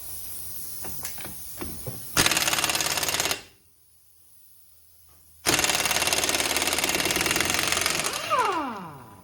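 An impact wrench buzzes off the hub axle nut on a 2004 Grand Caravan using a 32 mm socket: a few short taps, then two loud sustained rattling bursts separated by a brief silence, ending in a winding-down whine.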